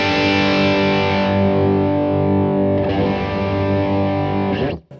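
A single electric guitar chord rings out through a Blackstar LT Compact Distortion pedal with the treble rolled off by the tone knob. The thick, fuzzy chord sustains loud and steady for several seconds, then is cut off abruptly.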